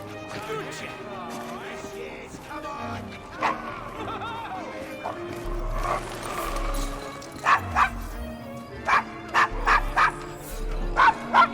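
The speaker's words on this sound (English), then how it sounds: "Is your dog quite all right?" A dog in Assassin's Creed Syndicate, set in Victorian London, gives repeated close, loud barks and yips, bunched toward the end, over a busy game soundscape with voices.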